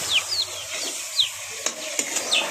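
Small chicks cheeping in short high chirps, several scattered calls close by over a couple of seconds, with faint handling noises and a few soft clicks in between.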